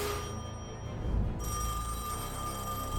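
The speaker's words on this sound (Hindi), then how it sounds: "फोन आया है।" A telephone bell rings in a Mr. Beast game scene, a sustained bright ring over low background rumble, fairly close and alone without speech.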